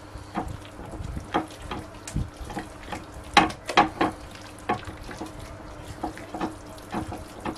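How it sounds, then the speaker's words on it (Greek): Food frying in a pan, seasoned with pepper, stirred with a utensil: repeated scraping knocks and clicks over a steady low sizzle, close by, with no voices. "Ανακατεύουμε πάλι."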